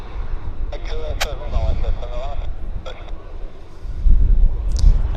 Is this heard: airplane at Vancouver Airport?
yes